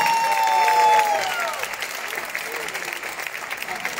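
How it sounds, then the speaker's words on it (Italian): Applause from the audience at an Italian tribute show, sustained clapping with a sung or whistled tone over it at first, then settling into a steady, moderately loud round of claps. "le targhe, e qui vanno date con un applauso"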